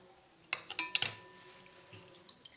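Water squeezed from soft homemade mozzarella made without rennet drips and splashes in a handful of quick, close, light drops and trickles, loudest early on and then thinning to sparse small drips.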